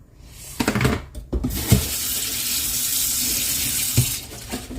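Tap water runs steadily into a sink while food is washed with vinegar, a continuous close hiss with a few clatters and knocks of handling near the start and around the middle.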